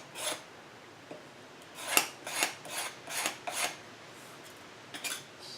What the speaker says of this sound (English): I'm going to just try to shave this down a little bit with a scraper blade.